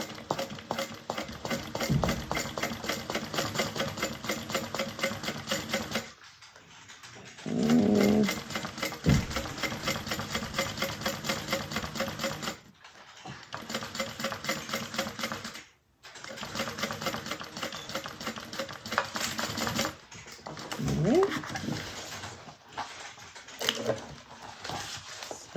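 Sewing machine stitching a bag in rapid rhythmic bursts of needle clatter, close and clear, pausing briefly between runs with small handling noises in the gaps.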